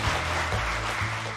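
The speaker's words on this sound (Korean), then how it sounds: "우리 존경하는 서광선 목사님께 감사의 박수를" Audience applause of thanks for a pastor at a book launch event, a brief, even burst of many hands clapping in a room, moderately loud, with faint low murmur beneath.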